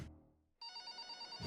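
A telephone rings with a steady, bright electronic tone pulsing in short regular bursts. It starts after a brief muffled noise and near-silence and plays alone, close and clear.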